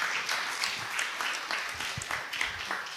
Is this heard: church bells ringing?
no